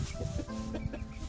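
A group of chickens in a coop clucks close by in quick, overlapping bursts.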